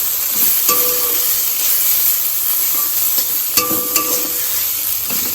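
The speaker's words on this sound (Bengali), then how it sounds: "ঢেঁকি শাক ভাজা হচ্ছে" Dhenki greens (saag) frying with potatoes in a pan give off a steady, close sizzle, with stirring clatter and a few sharp scrapes of the spatula. No one speaks.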